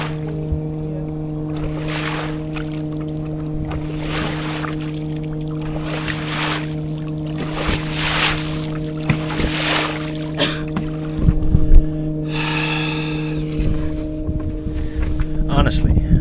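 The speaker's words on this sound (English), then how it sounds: "Wonderful behavior from motorboat owners. Wonderful. Look, now we get a wake." An anchored boat rocks as wake waves from a motorboat running at full throttle into the anchorage slap and wash against the hull, under a steady engine-like hum, with a person talking throughout.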